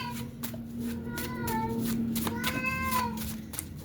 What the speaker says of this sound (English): One of my other cats is starting to go through it now.